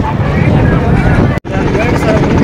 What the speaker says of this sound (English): So that's a helicopter service here,